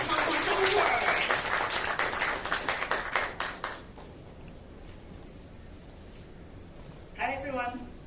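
Crowd applause at a Cyberport Web 3.0 investment forum in Hong Kong, a dense steady clapping from a large audience that thins and fades out over several seconds, followed by quiet room tone and a brief voice starting to speak.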